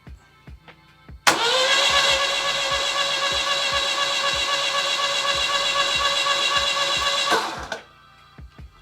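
Volvo Redblock engine on Speeduino EFI: rhythmic cranking clicks, then the engine catches and runs loudly with a steady roar for about six seconds before shutting down and cranking clicks resume.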